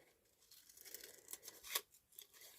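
Scissors cut paper for a junk journal in a few quiet, close snips and rustles, with one sharper cut near the end and near silence between.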